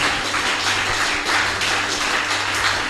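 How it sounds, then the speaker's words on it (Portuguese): An evangelical church congregation applauds, creating a continuous wash of many hands clapping at once. It holds steady in loudness over a low background hum. "Quantos podem aplaudir o Senhor?"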